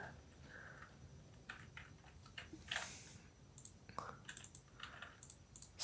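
Numbers typed on a computer keyboard, a quiet, close run of light irregular key clicks with short pauses between strokes.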